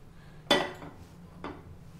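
A metal frying pan (bandi) set down on a stove, one sharp, close clank followed by a smaller, quieter metallic knock a second later, with a faint background hum.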